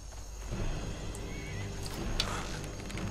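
A horse in the Skyrim video game whinnies over a low rumbling background, the call rising briefly and faintly amid clip-clopping hooves, with no one talking.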